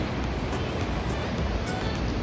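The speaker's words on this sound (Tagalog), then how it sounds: "Malakas yung alon guys." Strong ocean waves at Hundred Islands, Pangasinan, a steady loud wash of surf and rushing water with some wind noise, filling the whole moment without pause.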